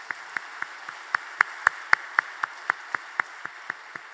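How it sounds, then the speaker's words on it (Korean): Scattered, slow claps from a church congregation greeting two missionaries, about sixteen distinct hand claps in a loose, uneven rhythm, fairly close and moderate in volume, with no voices. "우리 두 분 일어나서 인사하실 때 큰 박수 보내드리겠습니다."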